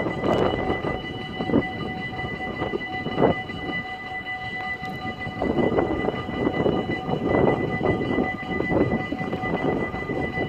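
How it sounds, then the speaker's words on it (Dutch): An SNG electric passenger train passes close by, a loud rumbling roll with rhythmic wheel clatter and metallic squeal that swells and continues steadily throughout. "En er komt een prachtige SNG aan."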